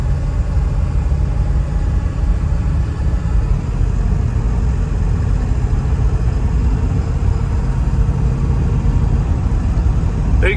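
A 2003 Ford Excursion with a 7.3L Powerstroke diesel runs steadily as it shifts through the gears, giving a continuous low, loud rumble with no break and no voices.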